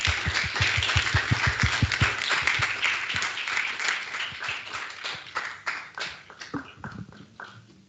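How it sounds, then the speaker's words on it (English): Audience applause at the launch of the Council for Net Zero Transport, opening with loud, close, rhythmic clapping that loosens into scattered claps and fades over several seconds, with no talk over it. "will you please clap them for what was a really interesting introduction"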